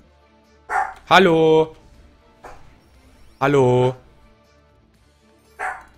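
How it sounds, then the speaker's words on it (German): Dogs bark in a few loud, separated bursts close by, with a man calling out between barks indoors. "wieso die immer am Bellen sind"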